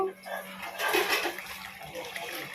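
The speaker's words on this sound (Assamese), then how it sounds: "খানা বক বক বক বক উতলি আছে" Food bubbling and churning in a pot, with voices talking over the watery gurgle.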